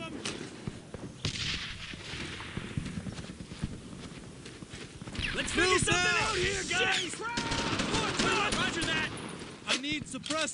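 Gunfire in the World War II shooter Brothers In Arms: Earned In Blood, rapid shots crackling through a dense battle mix, growing louder and busier in the second half as soldiers shout over it.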